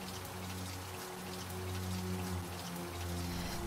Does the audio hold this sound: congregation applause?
no